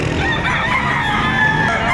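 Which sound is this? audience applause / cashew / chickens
chickens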